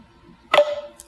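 Snare sample in a hip-hop instrumental beat, heard as one sharp, bright snare hit with a short tonal ring after near silence, then a faint second tap.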